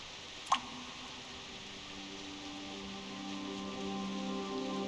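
Soft steady rain patters in the video game Reverse 1999, a faint even hiss with one brief sharp tick near the start and a low tonal hum beneath.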